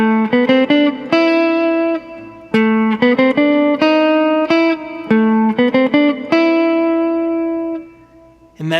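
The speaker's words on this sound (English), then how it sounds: "the rest of the band would come in and it would sound like this" Ensemble playing with loud, sustained distorted guitar chords hit in a series of sharp, rhythmic accented stabs, pausing and restarting, then a long ringing chord fading near the end.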